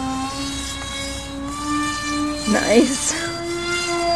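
A model F-35 STOVL jet whines with a steady high-pitched turbine tone that holds throughout, and the pitch bends briefly as it spins. A short spoken remark comes partway through.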